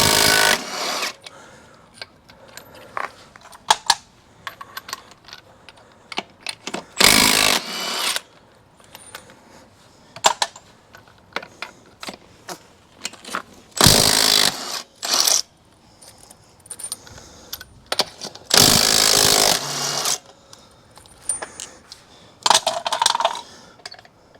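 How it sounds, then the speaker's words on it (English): A compact Milwaukee impact wrench spins lug nuts off a Jeep wheel in a crisscross pattern, loud repeated bursts of whirring and hammering, several short and a few longer, with clinks and handling noises in the gaps. "We're gonna pull our wheel off. Crisscross pattern. This little Milwaukee impact's perfect for the Jeep."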